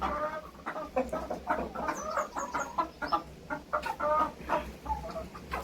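Hens cluck busily and continuously on a farm, several birds close by making overlapping short clucks and squawks with no talking.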